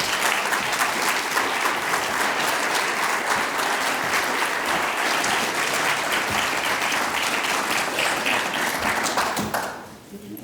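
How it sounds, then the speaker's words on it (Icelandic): Sustained crowd applause and clapping from an audience welcoming panel candidates at a Reykjavík city council leaders' debate, dense and even for about ten seconds before tapering off abruptly at the end. "Gefið þeim gott klapp."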